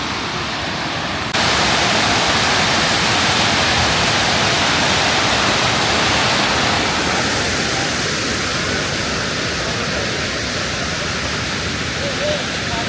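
A waterfall on a hill trek in Andhra Pradesh gives off a steady, dense roar of falling water, loud and continuous throughout and close at hand.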